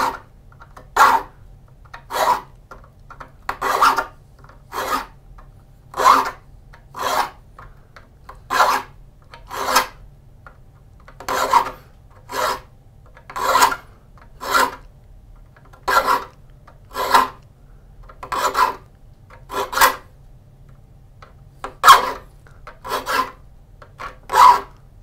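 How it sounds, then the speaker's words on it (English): Hand saw teeth being sharpened with a file, a steady series of about twenty rasping strokes roughly one per second, close and clear over a faint low hum, with no talking. "Saw sharpening is one of those zen moments."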